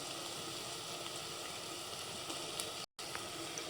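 Ginger paste frying in oil with onions sizzles softly and steadily, a faint hissing crackle broken by a brief moment of silence near the end.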